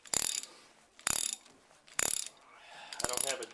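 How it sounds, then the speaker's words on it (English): Ratcheting clicks as a breaker bar turns a bolt on a 1965 Dodge D100 pickup, four loud bursts of rapid metallic clicking spaced about a second apart. "I put a breaker bar on this side and just start pulling."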